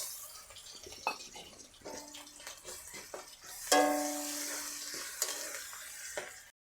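Spices sizzle and crackle in hot oil for egg chana dal, with scattered scraping and clinks of stirring, growing louder midway, close by with no voices.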